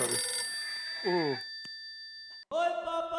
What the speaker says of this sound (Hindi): फोन उठा भाई। और इतनी जोर का रिंगटोन साइलेंट पे कर